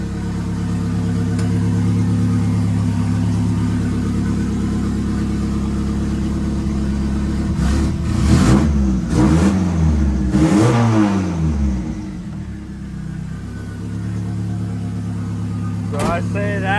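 A car engine with newly installed cams idles steadily near 1,000 RPM with a low, lumpy tone, then blips through several sharp revs before settling back to idle; a brief voice breaks in near the end.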